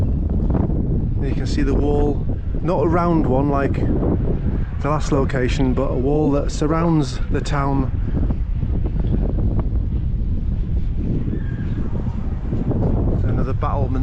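Steady wind buffets a high rooftop viewpoint in Rothenburg ob der Tauber, with a constant low rumble of microphone wind noise. Someone talks over it for much of the time.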